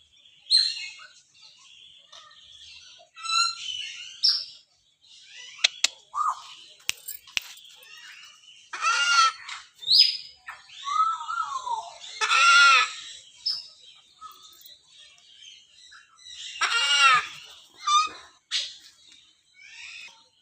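Harsh, raspy white cockatoo screeches come in repeated bursts with pauses between, moderately close, over a quiet background.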